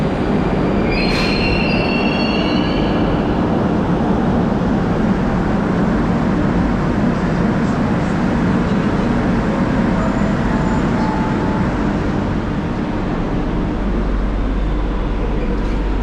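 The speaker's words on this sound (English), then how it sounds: "Yeah, it's a metro train decorated on the theme of metro." A Moscow metro train running loudly and continuously, with a rumbling roar, rail noise and a brief high squeal of wheels near the start.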